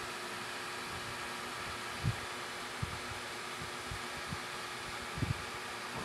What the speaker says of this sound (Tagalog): Pero ang lakas ng ikot ng fan niya oh.